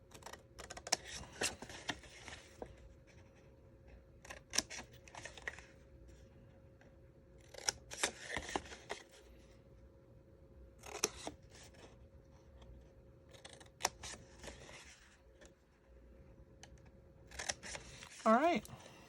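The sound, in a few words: scissors cutting paper for pine tree box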